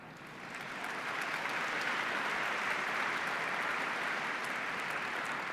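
A crowd at a middle school science bowl championship breaks into applause that swells within the first second and holds as a thick, even roar of clapping.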